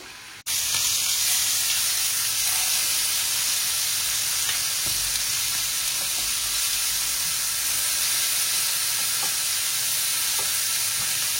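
Tandoori chicken pieces sizzle over a low flame, a steady close frying hiss with faint crackles and pops running the whole time after a brief start, with no talking.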